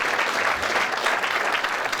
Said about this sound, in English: give them a nice big round of applause